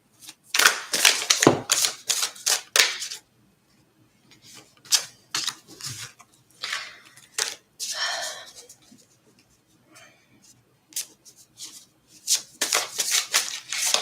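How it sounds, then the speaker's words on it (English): Several decks of tarot or oracle cards get quick riffle shuffles, producing bursts of crisp fluttering snaps separated by pauses and soft handling noises, close up in a quiet room. "I'm just kind of giving all of my decks a bit of a cursory shuffle real quick."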